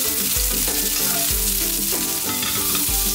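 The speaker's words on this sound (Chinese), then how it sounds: "我们刚才切的洋葱还有辣椒先给炒一下" Onions and chili peppers stir-frying in a hot pan, a loud continuous sizzle with rhythmic scraping strokes of a spatula repeating about every second, close and without talk.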